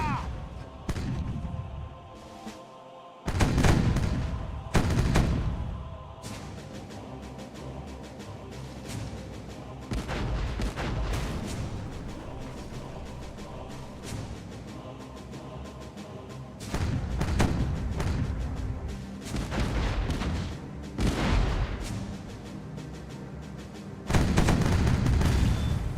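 Heavy cannon broadside fire in the Caribbean Legend pirate naval game, a series of loud booming blasts scattered across the clip, some in quick volleys, with voices calling out between shots.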